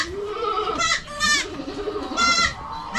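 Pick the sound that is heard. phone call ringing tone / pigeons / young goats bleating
young goats bleating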